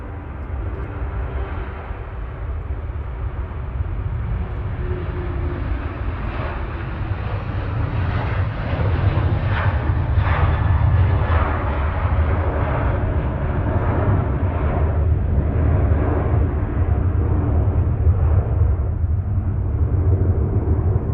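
A loud, continuous roar of jet engines fills the air at Manchester Airport as Jet2 and Ryanair airliners move close together, one departing for Paphos and another on final approach, swelling and slowly fading.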